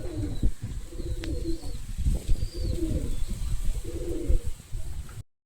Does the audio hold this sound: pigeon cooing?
yes